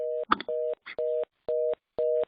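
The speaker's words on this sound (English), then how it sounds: "we find out who this phone beeping is" A phone sends out five steady electronic beeps in an even, regular rhythm, each tone about a quarter second long, with a brief rustle and a soft blip between the first few.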